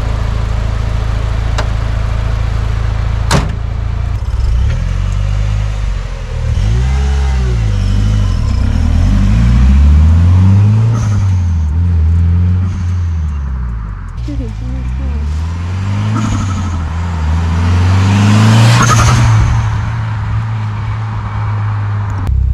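A Mitsubishi Evo IX with an open HKS blow-off valve drives with repeated loud engine surges, its pitch sweeping up and falling away again and again over a low, continuous rumble.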